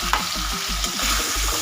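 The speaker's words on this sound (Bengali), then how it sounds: "মশলাটাকে ভালো করে ভেজে নেব।" Potatoes fry and get stirred through a spice paste for a katla fish curry. Steady rhythmic stirring strokes scrape the pan about every quarter second over a constant close sizzle, with no voices.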